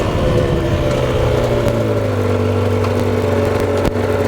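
An Aprilia RS two-stroke motorcycle engine revs loudly and close, its buzzing tone climbing and dropping in pitch over a few seconds, with a brief dip near the end.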